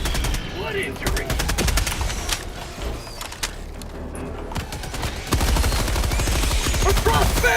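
Automatic sentry turret fire in a co-op bug-shooting video game, loud rapid bursts of gunfire rattling almost continuously, with a brief lull midway before the firing picks up even harder.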